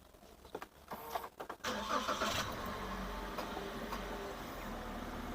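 A car at an auction is started: a few clicks and a brief starter crank, then the engine catches and settles into a steady, moderately loud idle.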